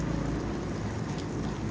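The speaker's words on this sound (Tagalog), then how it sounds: "Bigla na lamang ulan samantala napakainit." A sudden rain shower on a very hot day makes a dense, even hiss of falling drops that holds steady and fairly near, with no voices.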